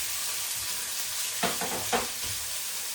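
About 45 grams of onion hits hot oil for a vegetable curry with masi, producing a constant close hissing sizzle, broken by two short stirring scrapes, with no talking.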